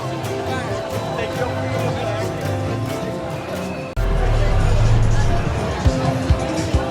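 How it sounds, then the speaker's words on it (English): A vast crowd gathered at an outdoor freedom rally in Hyde Park, London, making a dense, steady murmur of many voices that swells louder midway, with occasional nearby bumps. "vast crowd here, people of all shapes and sizes and beliefs"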